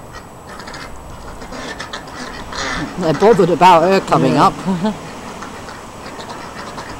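Muscovy and Indian Runner ducks give a short burst of loud, raspy quacking midway through, close by, with a person talking quietly around it.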